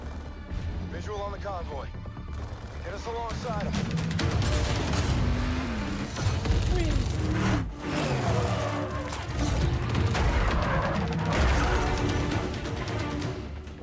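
In Call of Duty: Infinite Warfare, a convoy comes under attack: crashing impacts, heavy gunfire and artillery-like blasts pound over dense game music, with voices talking through the clash.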